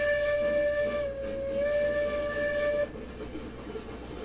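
A steam locomotive in Railroads Online sounds its whistle, one long steady chord-like blast lasting nearly three seconds, loud and close, then cuts off leaving rumbling engine hiss.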